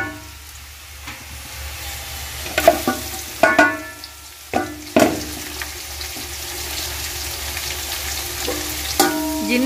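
Chopped onions fry in hot oil in a deep cooking pot, giving a steady close sizzle with several sharp clinks and scrapes of stirring scattered through it.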